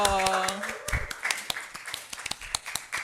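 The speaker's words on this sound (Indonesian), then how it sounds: "Jadi tepuk tangan dong" A small group claps hands in quick uneven bursts during an Indonesian podcast intro, sharp close slaps following a sung cheer and scattered through the remaining seconds.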